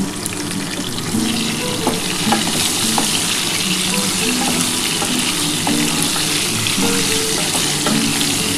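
Goat meat fries in a pan with salt and turmeric, giving a continuous loud sizzle with faint stirring scrapes and clinks throughout and no talking.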